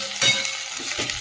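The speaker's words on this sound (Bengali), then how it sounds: "আদা রসুনটা একটু তেলের মধ্যে নেড়ে নিই" Ginger garlic paste frying in hot oil hisses steadily while a spoon stirs it, a broad close sizzle with a few soft scraping strokes and no voice.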